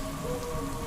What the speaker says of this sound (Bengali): বৃষ্টির ছাঁটগুলো জানলায় আঁচড় কেটে যাচ্ছে